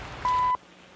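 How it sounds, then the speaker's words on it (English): A single clean electronic beep from a shortwave time signal station such as CHU Canada, a short steady tone lasting about a third of a second over faint static. "Those are the stations that just beep, beep, beep. Every second there's a little beep."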